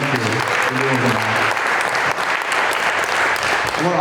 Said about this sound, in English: you need to give a round of applause to the staff that are doing that for you